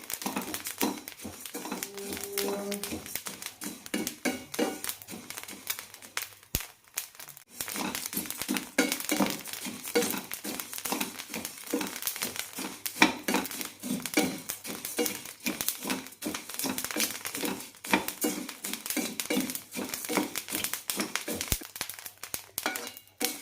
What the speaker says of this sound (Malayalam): അരിയൊക്കെ നന്നായി പൊരിഞ്ഞിട്ടുണ്ട്.